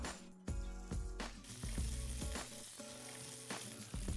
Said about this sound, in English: As soon as the duck hits the pan, it wants to sizzle and start cooking.